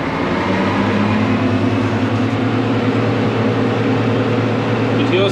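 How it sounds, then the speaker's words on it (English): A Massey Ferguson MF 6499 tractor spins Samasz butterfly mowers on its PTO, giving a loud, steady droning hum close by, with a voice faintly heard beneath it. "So all my mower spinning, no funny noises."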